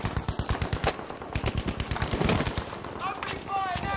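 Rapid, evenly spaced machine gun bursts in Battlefield V, close and punchy, steady for about three seconds and then giving way to other battlefield noise and whistling tones.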